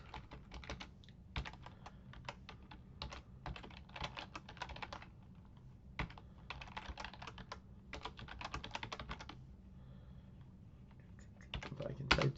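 Rapid typing on a computer keyboard, bursts of close, crisp key clicks with short pauses between runs, fairly quiet and alone.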